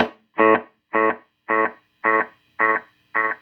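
An echo effect from a budget Donner or Rowin guitar delay pedal repeats a bright, distorted chord in six evenly spaced pulses, each about as loud as the last, with a trebly edge and no talking.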